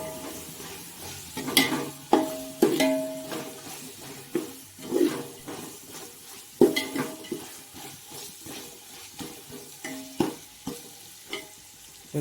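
Mint and coriander leaves being sautéed in a pan for mushroom biryani, with soft sizzling under repeated stirring scrapes and clinks of a spoon against the pan, close and moderately loud.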